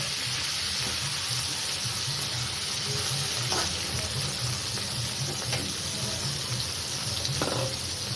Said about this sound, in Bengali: মাছকে আমি ভেজে নিচ্ছি, মাছকে আমি ভেজে তুলে নিব